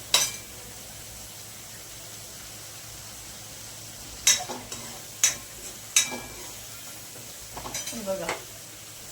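Masala fries in oil in a pan for a spiced cauliflower curry, a low steady sizzle running throughout, with a few sharp spoon scrapes and clinks against the pan in the second half.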